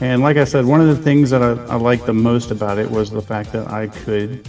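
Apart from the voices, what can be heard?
None of the usual background noises is heard.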